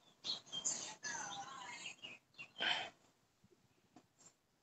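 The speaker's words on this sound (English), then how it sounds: "Yeah, I really love listening to the birds." Birds chirp and call outdoors in a few short bright bursts, fairly close but soft, with quiet gaps between them and no talk.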